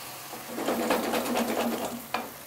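Sherry wine hits a hot pan of mussels with a bursting sizzle that swells quickly, crackles and spits steadily close up, then ends with a sharp clack.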